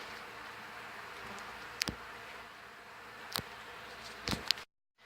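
Bees in an abandoned hive in a farmhouse in August drone faintly in a soft, continuous buzz, with a few sharp close clicks or taps before it cuts to silence.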